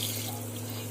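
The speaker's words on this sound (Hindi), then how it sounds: "हम डालेंगे इसमें 1 लीटर पानी" Water pours steadily into a pot for mutton curry in a home kitchen, a short close, continuous splashing flow over a low background hum.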